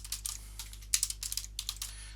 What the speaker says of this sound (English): I'll just type that up.